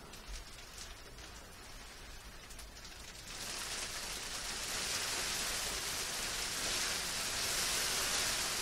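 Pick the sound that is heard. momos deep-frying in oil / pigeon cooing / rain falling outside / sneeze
rain falling outside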